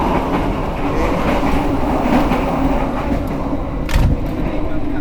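A Matarmaja New Generation passenger train runs along the rails with a steady, loud rumble and a faint clickety-clack that continue without a break, plus a brief swell near the end.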